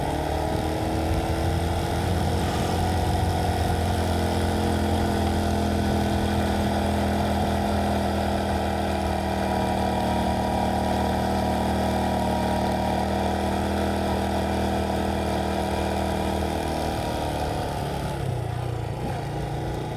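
A motorbike labouring up a steep hill in first gear, its engine droning loud and steady throughout with a constant rumbling tone, heard close without any talk.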